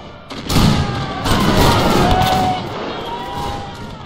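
An infantry rank fires a volley in the video game Napoleon Total War, a sharp burst of overlapping musket shots followed by a second crackling wave and a fading rumble.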